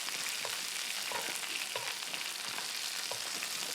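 A steak sizzles steadily in a pan as garlic butter oil is spooned over it, a bright continuous crackle and hiss with small spattering pops and no talking.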